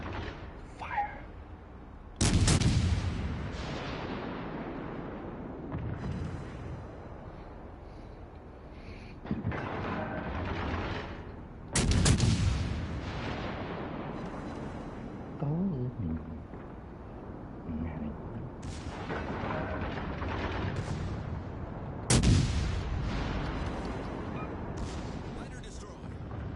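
Naval guns on warships boom in a sea battle in World of Warships, three loud heavy salvos spaced several seconds apart, each decaying into a rumble, with quieter distant blasts and game noise between them.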